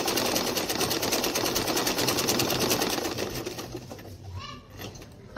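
A domestic sewing machine stitches a straight double seam on fabric, a fast close mechanical whirring that runs continuously for most of the time, then slows and fades, with faint bird cooing in the background.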